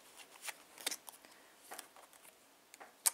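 Tarot cards drawn and shuffled by hand, a quiet run of soft flicks and paper snaps close by, with one sharper snap at the end.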